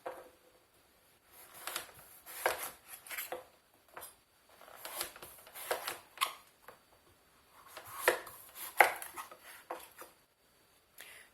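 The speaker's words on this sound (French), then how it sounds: "maintenant je continue en coupant des tranches, toujours des petites tranches" A knife cuts peeled butternut squash into thin slices, giving quiet, crisp, irregular cuts and soft taps in bursts spread across the clip, with no talking.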